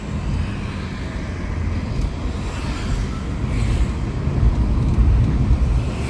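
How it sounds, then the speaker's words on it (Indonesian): Steady city road traffic of mostly cars and large trucks, a continuous broadband roar that swells slightly louder toward the end, with no voices. "Dan jalan raya perkotaan di sini memang kebanyakan mobil atau lori-lori besar."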